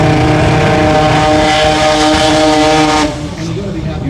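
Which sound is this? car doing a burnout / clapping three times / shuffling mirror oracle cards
car doing a burnout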